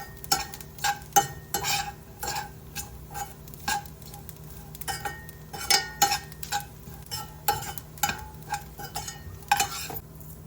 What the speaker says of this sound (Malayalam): കപ്പ് തേങ്ങയും കുറച്ച് കറിവേപ്പിലയും ചേർത്ത് കണ്ടിന്യൂസ് ആയി ഇളക്കുക.